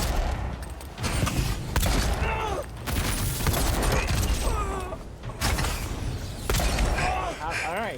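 Gunfire in the fantasy RPG Avowed, with bursts of shots and crackling impacts recurring through combat while someone talks over them.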